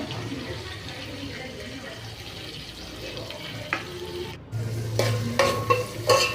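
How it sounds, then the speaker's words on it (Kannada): Onion and tomato fry in oil in a pan for a bottle gourd palya while a spoon stirs them. A low sizzle sits under scraping and clinking strokes that grow louder and more frequent toward the end. "ಈರುಳ್ಳಿ ಚೆನ್ನಾಗಿ ಫ್ರೈ ಮಾಡಬೇಕು. ಅದು ಫ್ರೈ ಮಾಡ್ದಂಗೆಲ್ಲ ಈ ಥರ ಎಣ್ಣೆ ಬಿಟ್ಕೊಳ್ಳುತ್ತೆ."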